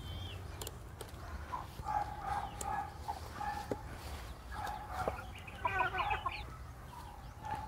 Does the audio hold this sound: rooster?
yes